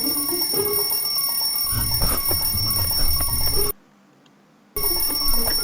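An alarm clock rings with a bright, continuous electronic tone. It drops to silence for about a second, then starts ringing again.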